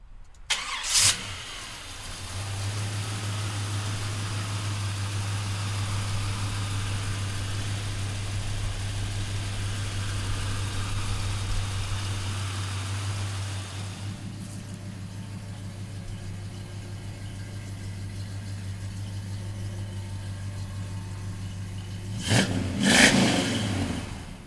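A 1972 Chevrolet Monte Carlo's engine cranks and catches, then settles into a steady, low idle that runs for about twenty seconds before a couple of sharp revs near the end, with no talking.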